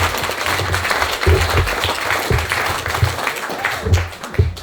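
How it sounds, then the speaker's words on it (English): Audience applause at a forum talk in Tunbridge Wells, a steady wash of clapping from a room full of people, moderately loud and continuous for several seconds. "If there's a round of applause,"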